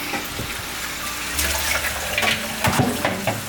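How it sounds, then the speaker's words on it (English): Tap water runs and splashes, shifting in tone as something is rinsed under the stream, with a few clanks of a pan. "so, pan, let's rinse it off"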